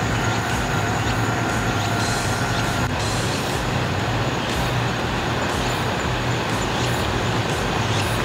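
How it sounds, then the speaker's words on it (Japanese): A loud, continuous rumble of a diesel railcar rolling past close by in Tokushima, with steady engine drone and rattling wheels throughout, no voices. "今の気動車。"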